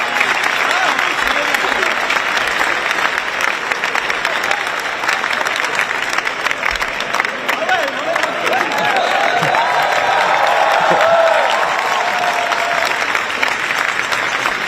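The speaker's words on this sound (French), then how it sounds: "B-Boy Thomas, on l'applaudit bien fort." A crowd applauds at an Olympic Day event in Paris, with steady clapping running throughout, mixed with cheering voices and some talk in the background.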